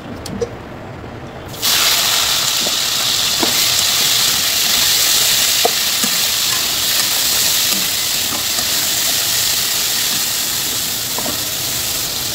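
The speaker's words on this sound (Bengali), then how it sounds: "এই বোনলেস চিকেনটা দিয়ে দেবো। ফার্স্টে আমি ভেজে তুলে রাখবো" Boneless chicken, about 200 grams, drops into a hot pan and erupts into a loud, continuous sizzle close by, with occasional stirring scrapes over the steady frying hiss.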